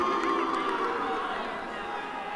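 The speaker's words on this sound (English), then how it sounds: "Listen to those boos." A football crowd jeers during a penalty shootout between Bournemouth and AIB, a dense, moderately distant mass of voices that fades slightly over a couple of seconds.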